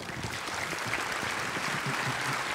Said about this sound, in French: On vous applaudit bien fort tous les quatre